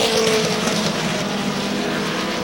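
Race cars with Gertie-powered engines and Boston Hawk chassis battling on the track at Thompson Speedway, a loud engine roar with a passing whine that fades slightly.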